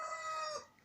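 Two roosters named Julio and Blackus crow at once, their overlapping harmonic calls merging into a single strained, moderately distant crow that trails off within a second.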